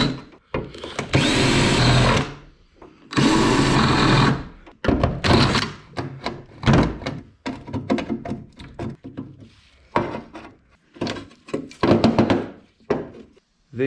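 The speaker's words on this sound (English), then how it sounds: "So these are what I've got to drill out" Drill boring out spot welds on a Jaguar S-Type R hood: several loud, harsh bursts of drilling, the longer ones first, then shorter stuttering runs broken by pauses.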